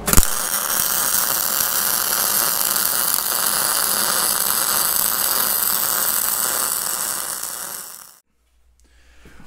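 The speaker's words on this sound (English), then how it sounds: "okay, we'll weld it." Welding on a steering clutch part from a Caterpillar D2 crawler tractor, a steady loud crackling hiss that runs without a break for about eight seconds and then stops dead.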